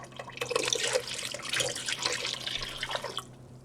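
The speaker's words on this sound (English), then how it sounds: "add more water to this pot" Water poured from a tap into a large pot of yarn being stripped of dye, a steady close splashing and gurgling stream lasting a few seconds, then easing off at the end, with no talking.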